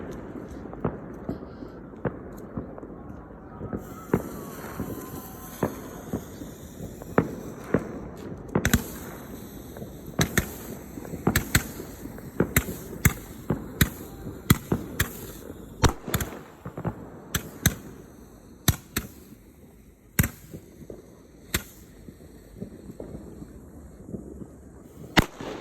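Firecrackers and fireworks go off in a long irregular string of sharp cracks and pops, some close and loud, others fainter, over a steady background hiss.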